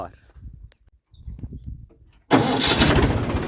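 A tractor engine cranks and fires up at a village, bursting into a loud, steady running roar after a few quieter moments with someone talking briefly beforehand.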